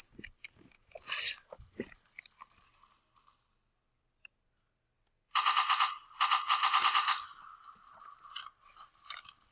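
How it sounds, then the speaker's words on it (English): Bursts of rapid, sharp video game gunfire from Prison Life ring out in two loud volleys, with scattered quieter shots and clatter before them. "I hear some gunshots."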